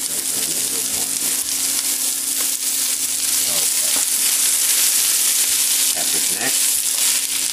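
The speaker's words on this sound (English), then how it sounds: "Now I'm going to start by throwing in the onions." Onions sizzling in olive and sesame oil in a pan, a loud, continuous close-up hiss with occasional stirring scrapes, and a voice heard faintly beneath it.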